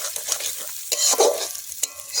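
Chicken pieces are stir-fried for chicken kosha, likely cooked outdoors in the Sonajhuri forest, with close scraping stirs and short bursts of sizzling over a quiet background, no speech.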